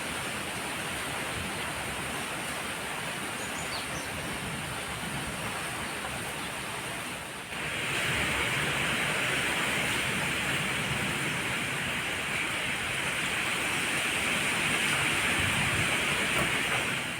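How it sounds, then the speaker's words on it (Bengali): Steady rain falls outside, a dense, even hiss that continues throughout and grows slightly heavier and brighter partway through, with no voices. "অলরেডি কিন্তু বৃষ্টি শুরু হয়ে গেছে।"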